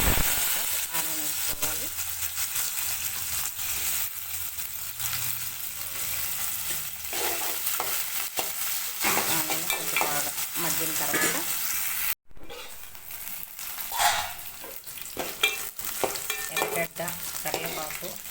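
Tempering seeds crackle and sizzle in hot oil while being stirred for a Nellore-style drumstick pulusu, a continuous close frying hiss with scraping spoon strokes and a short gap partway through, a voice briefly heard.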